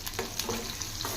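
Garlic cloves, mustard seeds, cumin and torn dried red chillies crackle and sizzle in hot oil over a medium flame for a Telugu tomato dal tempering, a steady close hiss with small pops and a light stir.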